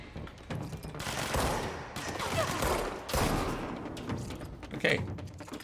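Gunfire from the video game Control: a sustained burst of overlapping shots and thuds across the clip, loud and dense, with a sharper crack near the end.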